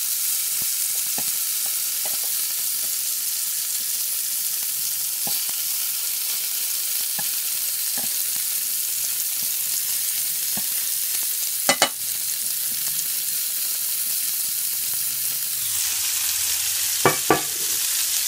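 Homemade meatballs fry steadily in a pan for slow-cooker meatballs and gravy, a constant close hiss with scattered small pops and a few louder clatters near the middle and end as they are turned.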